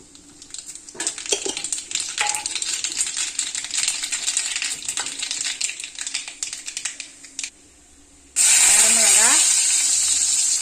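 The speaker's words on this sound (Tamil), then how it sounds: "இப்போ சட்டி காஞ்சிருச்சு நான் கடுவை போட்டுக்கிறேன்" Mustard seeds crackle and pop steadily in hot oil in a dry-heated pan while making rasam, a dense fizzing patter that briefly drops away before a much louder, harsher sizzle bursts up near the end.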